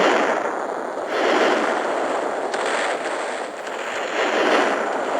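Dense, continuous booming and crackling bursts of ship cannon fire roll on without pause in a Roblox naval battle, with no voices.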